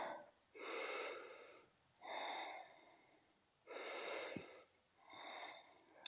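Slow, deep breathing during a yoga exercise on a mat, four long breaths each lasting about a second, heard close and quiet with short pauses between them.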